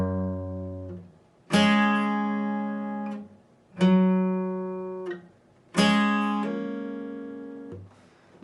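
A guitar slowly plays part of the verse, with several separate chord and note strikes a couple of seconds apart. Each one rings out and decays before the next, close and clear, with no talking.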